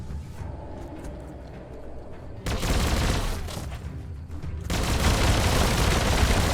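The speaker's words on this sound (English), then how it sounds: "Bullets everywhere." Gunfire in the action game Biomutant, with dense overlapping bursts growing louder and fuller in two steps, turning into sustained heavy shooting with booming impacts toward the end.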